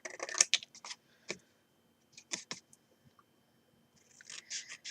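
Scissors snip through paper along score lines while making a sewing kit, giving a few separate crisp cuts in short bursts with quiet gaps between them, close and fairly soft.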